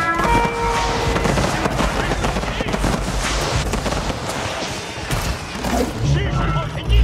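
Gunfire erupts in an Age of Empires IV battle, a dense, continuous crackle of shots and blasts that keeps going throughout. In-game voice lines talk over the din.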